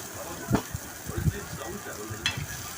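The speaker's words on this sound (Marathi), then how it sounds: "कांदा चांगला लालसर होईपर्यंत भाजून घेऊ" Onions frying in a pan for a Maharashtrian-style chicken curry, a soft steady sizzle with occasional stirring scrapes, fairly quiet and close, with a voice speaking over it.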